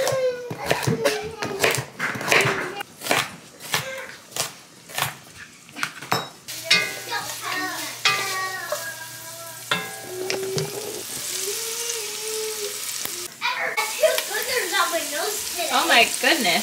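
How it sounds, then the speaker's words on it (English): Vegetables sautéing in butter in a Dutch oven, a steady sizzle under utensil clinks and stirring, with people talking and exclaiming over much of it. "we're going to saute the vegetables"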